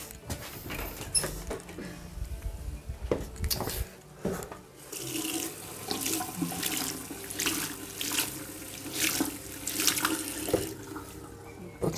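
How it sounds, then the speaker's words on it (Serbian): A tap runs water into a sink during DIY work under a staircase, a steady hissing stream that stays fairly quiet, with a few knocks and clatters around it. "Vodica, vodica."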